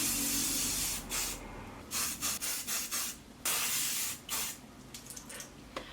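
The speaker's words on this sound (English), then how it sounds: "I'm just going to spray a little bit of the Short Scoff Got To Be Mind Blowing Fast Dry Hairspray" Got To Be fast dry hairspray is sprayed onto freshly set curls in a string of close, hissing bursts, some long and some short, with no voices.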